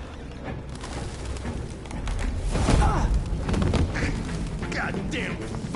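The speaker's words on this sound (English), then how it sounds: "Goddamn fucking pigeons!" Pigeons burst into flight in the video game Detroit: Become Human, a close flurry of flapping wings that swells in the middle and then thins out over a low, busy background.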